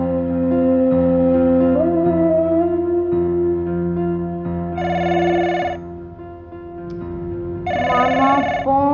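A telephone rings twice in electronic bursts over sustained background music with a low drone.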